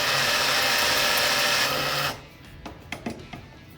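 Tri Tool 300STS-1 tube squaring machine cutting a 1 inch tube with helical feed, a loud steady grinding machining noise for about two seconds, then it stops and leaves a few faint clicks and knocks.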